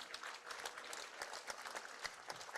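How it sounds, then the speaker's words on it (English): A small crowd at a wheelchair football league grand final claps for the organisers, scattered soft applause heard from a distance at low volume. "round of applause for that"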